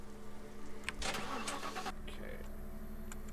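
A car engine cranks and turns over in the video game The Last Stand: Aftermath, a loud burst of starter noise settling into a steady idle over background game music.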